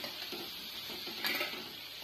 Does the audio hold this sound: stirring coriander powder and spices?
yes